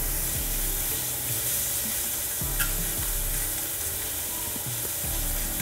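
Carrot shallow-fries in ghee for Onam payasam, a steady close sizzle with repeated stirring scrapes and clinks of a spoon against the pan throughout.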